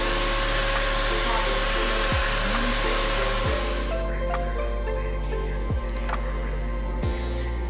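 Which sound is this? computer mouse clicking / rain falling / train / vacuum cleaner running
vacuum cleaner running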